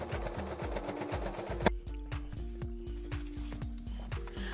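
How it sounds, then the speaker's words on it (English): A sewing machine stitches pieces of old denim jeans together for a fabric mat, running in a fast, even mechanical rattle with a brief pause partway through. "Now I sew all the parts together."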